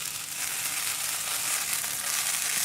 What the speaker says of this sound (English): You see the alcohol is going to burn off very, very quickly